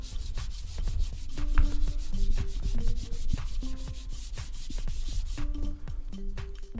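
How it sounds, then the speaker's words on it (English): Dried wood filler on a scrap wood shelving piece is sanded by hand with steady back-and-forth rubbing strokes, close and continuous, with some light knocks and bumps in between. "once that was dry, I just sanded it down"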